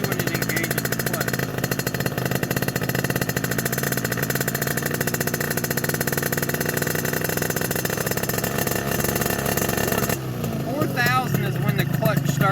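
Tuned scooter engine revving steadily and loudly up toward the clutch engagement point, a dense continuous mechanical roar with a shift in tone near the end, close to the recorder.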